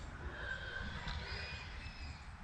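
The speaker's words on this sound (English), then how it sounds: "There's the neighborhood of horses." Horses neighing nearby, a faint, drawn-out whinny rising over a constant outdoor hiss and low rumble.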